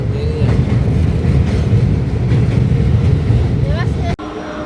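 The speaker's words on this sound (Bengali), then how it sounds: "মহানদী দেখার সময় দেখো ওই দিক দিয়ে আর একটা ট্রেন যাচ্ছে।" A train passes near the Mahanadi river, a loud steady rumbling roar with rattling that cuts off sharply near the end, while voices talk over it.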